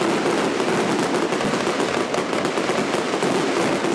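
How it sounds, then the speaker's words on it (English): Continuous crackling bursts of a large fireworks display over downtown Grand Rapids on ArtPrize opening night, dense and rapid pops overlapping throughout, fairly distant with no clear voices. "all leading up to the massive firework display"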